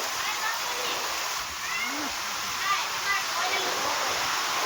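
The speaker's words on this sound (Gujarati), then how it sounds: "ચાલો ભાઈ અતિ ભારે પવન સાથે વરસાદ" Heavy rain driven by strong wind pours down in a steady, dense hiss, with a faint voice now and then beneath it.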